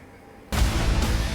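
An airstrike explosion in South Lebanon hits abruptly with a heavy, broadband boom that stays loud and rumbling for the rest of the moment, with a second surge close behind.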